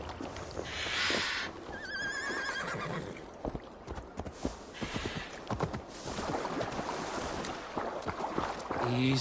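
A horse in the video game Assassin's Creed Valhalla whinnies loudly, then its hooves clip-clop unevenly, with wind and a water-like wash underneath.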